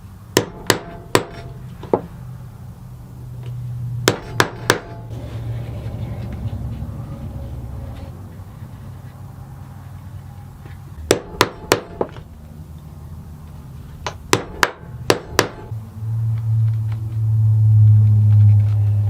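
Hammer strikes on a rivet setter driving a rivet through leather laid over plywood, sharp loud raps in short clusters of two to four with pauses between, plus a low rumbling hum near the end.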